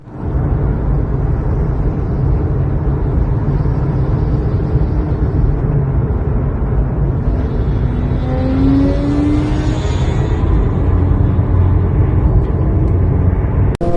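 A Triumph Daytona 675 sport motorcycle is ridden along a road, its engine droning steadily with a rising pitch partway through as it accelerates, close and continuous over wind and road noise.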